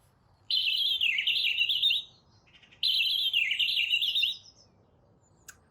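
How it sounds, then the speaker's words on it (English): A European robin sings two separate warbling phrases of about one and a half seconds each, clear and close against a quiet background, played back as a recording with a brief pause between them. "So that's what a robin sounds like."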